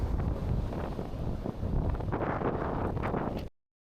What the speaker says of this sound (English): I was fighting the wind, and using a camera I wasn't that familiar with